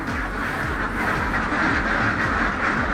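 Ducks on a poultry farm quack loudly and continuously close by, a dense overlapping flock chorus with no pause and no talking.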